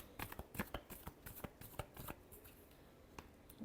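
Tarot cards being shuffled by hand, close and quiet: a dense run of crisp riffling flutters and soft slaps, with no voices.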